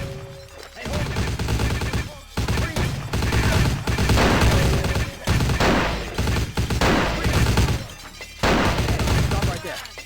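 Gunfire erupts in a Vampire: The Masquerade video game, loud bursts of rapid shots and crashing impacts in several blocks separated by short gaps.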